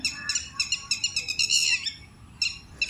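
Two birds call repeatedly in a rural Malvan garden, bright chirping bursts in quick rhythmic runs with short pauses, close and clear over a quiet background.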